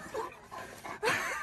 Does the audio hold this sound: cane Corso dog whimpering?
yes